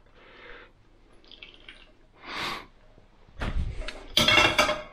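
Fish poaching broth from South-East Asian style poached sea bass is poured around rice in a pan, with short bursts of trickling and splashing liquid that grow louder and fuller toward the end, along with a few faint clinks.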